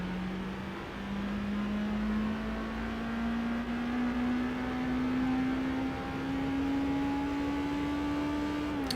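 Front-wheel-drive car engine in the Gran Turismo HD racing game, holding a continuous drone whose pitch climbs slowly and steadily throughout, loud and unbroken, with no voices.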